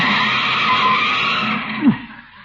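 Car braking and skidding in an old-time radio comedy, with broadband tire-screech noise across the whole clip and a short sharp squeal peaking near the end before it fades.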